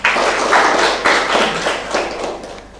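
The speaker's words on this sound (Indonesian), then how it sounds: "Boleh tepuk tangan?" Studio audience clapping at a televised dialogue forum, a dense steady round of applause from a nearby crowd lasting a few seconds and fading slightly at the end, with no talking over it.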